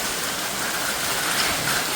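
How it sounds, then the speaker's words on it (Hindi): Heavy rain pours steadily with hail mixed in and strong wind, a dense, continuous hiss that stays loud and even throughout with no voices. "ये है बारिश"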